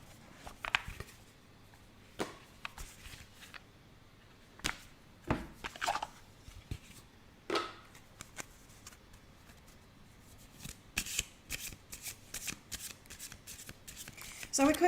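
An Oracle of Mystical Moments card deck being shuffled close up, with repeated riffling bursts and sharp flicks of cards in irregular groups, and quiet gaps between them.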